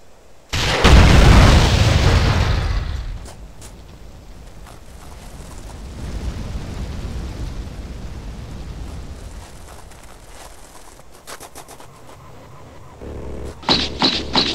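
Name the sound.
explosions in video game GTA San Andreas Jutsus mod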